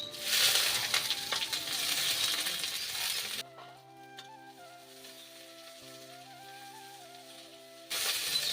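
Sliced onions go into hot oil with bay leaves, setting off a loud, bright sizzle that breaks for a few seconds of quieter background hum and then comes back.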